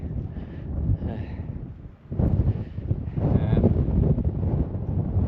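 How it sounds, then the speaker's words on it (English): Strong mountain wind on Tryfan's north face buffets the microphone in heavy, rumbling gusts, with faint voices partly buried beneath the roar. "you can see how quickly that wind's coming in now"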